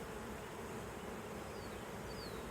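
A recaptured honeybee swarm around its hive produces a continuous, even buzz of many wings, soft and steady with no voices.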